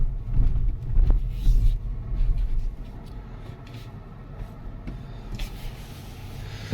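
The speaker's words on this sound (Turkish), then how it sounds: "Yol sesini biraz alıyor." Low rumbling road noise inside a Tesla Model Y while driving, loudest early on, then easing to a softer steady drone with faint bumps.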